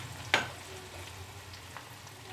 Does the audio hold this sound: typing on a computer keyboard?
no